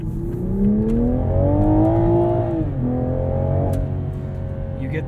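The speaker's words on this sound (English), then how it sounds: "This new 2021 Supra is surprisingly fast." A 2021 Toyota Supra 3.0 Premium accelerates hard, its engine note rising in a smooth, loud drone, dipping briefly at a gear change, then climbing again, heard from inside the car.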